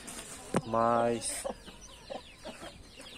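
A hen with newly hatched chicks makes a loud, clear cluck, followed by several softer, shorter clucks and peeps nearby, under a man's quiet speech.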